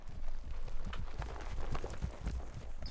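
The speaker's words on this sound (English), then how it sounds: "Hear the horse." Horse hooves clop in Silent Hill 2, a run of soft, irregular thuds at moderate distance over a quiet background, with no speech.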